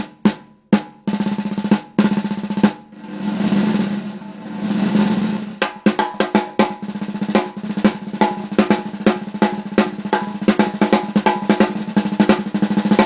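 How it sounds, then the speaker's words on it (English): Slingerland Radio King Gene Krupa wood-shell snare with a clamshell strainer, struck alone up close: a few separate dry hits, a pair of short press rolls, then a run of quick rhythmic strokes. "Finally, in the wood drum world, we have this Gene Krupa snare drum, Slingerland."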